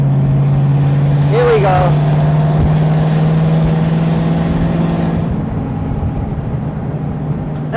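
A 1929 DuPont Model G Speedster's engine drones steadily and loudly, with a brief rising rev as it opens up under a short spoken line, then holds a sustained pitch as the car pulls along.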